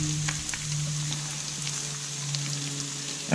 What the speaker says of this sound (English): I might as well sweat them off a bit while I've got the fry pan going.